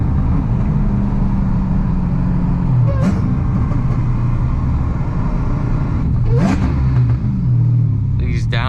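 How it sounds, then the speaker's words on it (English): A rich-running drift car engine with a fresh drift tune rumbles steadily, its exhaust burbling through downshifts with brief rising blips, close and loud with no talk over it. "These downshifts will never get old."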